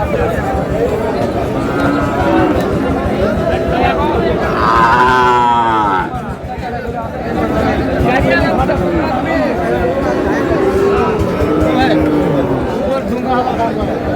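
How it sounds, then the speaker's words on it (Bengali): Sahiwal bull calves moo repeatedly, loud and close, at a busy cattle market. Crowd chatter and talking voices carry on underneath throughout. "শাহিওয়ালের ষাঁড়।"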